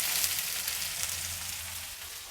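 Cooked avarekalu field beans sizzle steadily in a hot tempering for upma, a continuous close crackle with a low pan hum and no voices.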